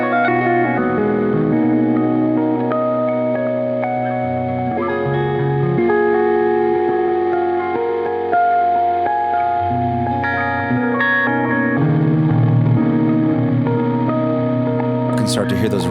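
Guitar played through a lo-fi PT2399-chip delay pedal set to quarter-note tap tempo, sustained chords and notes trailing into echoing repeats, loud and steady throughout.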